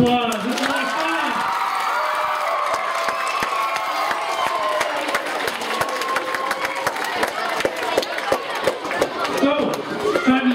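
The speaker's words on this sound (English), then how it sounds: "Let's give everybody another big round of applause." An elementary school walk-a-thon assembly audience applauds and cheers, a dense, loud wash of clapping with whoops and shouting voices that carries on steadily throughout.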